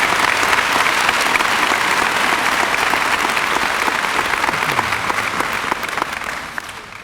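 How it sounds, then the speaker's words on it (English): Applause from a school assembly audience honoring Marine Corps veterans at a junior high appreciation event, sustained dense clapping that holds steady and then tapers off toward the end. "How about a nice round of applause for our Marine Corps veterans?"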